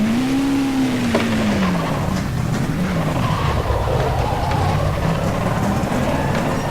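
A NASCAR stock car pulls out of the pits in the rFactor 2 racing game with an H-pattern gearbox. The engine drones loud and steady, its pitch rising and falling with gear changes, with a faint whine of tyres underneath.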